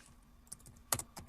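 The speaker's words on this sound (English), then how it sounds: "I hear him typing." Soft keyboard typing, a few scattered key clicks with a brief quicker burst, faint and close against a quiet background.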